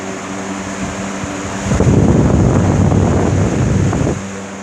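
A Lasko or Duracraft box fan switches up to high speed, and its steady whir turns into a loud, close rush of air buffeting the microphone for a couple of seconds before settling back to a hum.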